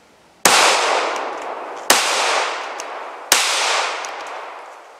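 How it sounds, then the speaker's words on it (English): Three loud, close shots from a Smith & Wesson M&P Shield pistol firing wide-cavity hollowpoint rounds at a dummy outdoors, evenly spaced about a second and a half apart, each sharp crack trailing off in a long echo. "We'll shoot the old dummy over here."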